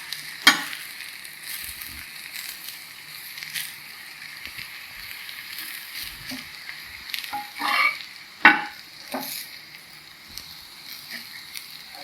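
Ragi adai, a finger-millet flatbread, frying on a pan just after being flipped, with a soft steady sizzle and faint crackles, broken by a few sharp clinks and scrapes of a spatula against the pan.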